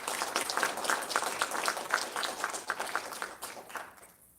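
A fairly faint round of applause from an awards ceremony audience, steady clapping for about four seconds that tapers off and stops near the end.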